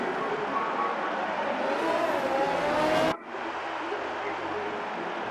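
GP2 race cars on the formation lap of the Singapore Grand Prix in a racing game, engines droning and rising in pitch before a sudden cut, then a lower steady hum, with a voice talking over them.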